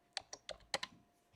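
Five quick, faint keystrokes on a computer keyboard as a short command is typed into a Windows start menu, light clicky taps in an uneven rhythm, close and quiet.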